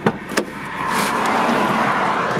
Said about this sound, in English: I'll just wait for this car to go.